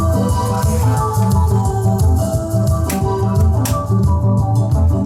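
Music plays back steadily from a Yamaha K-1020 cassette tape deck with no noise reduction, full and even in level, with a repeating rhythmic pattern and no voices.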